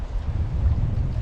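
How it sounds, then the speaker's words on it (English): Strong, savage wind gusting across the Ladybower reservoir during a trout fly fishing session, a loud continuous low roar buffeting the microphone with no voices. "it is a savage wind"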